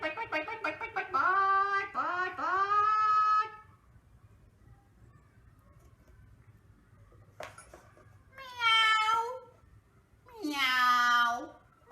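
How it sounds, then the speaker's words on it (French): A cat meows in a story about waiting for Father Christmas. There are several drawn-out, pitched meows, a pair early on and two more after a quiet gap, loud and close, with no talking over them. "ah bah c'est le chat bien sûr"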